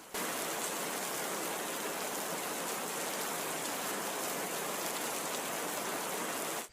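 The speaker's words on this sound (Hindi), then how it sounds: "एक रात गांव में बहुत तेजी से बारिश शुरू हो गई" Heavy rain pours steadily in a dense, unbroken hiss with no other sounds, fairly loud and even throughout.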